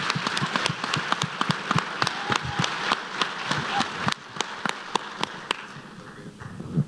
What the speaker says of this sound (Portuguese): aplaudam o Adriano